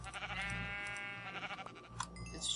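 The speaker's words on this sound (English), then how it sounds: "I wish I could eat the sheep." A sheep bleats in the Minecraft video game, its wavering nasal cry repeating over about two seconds and followed by a brief higher game sound.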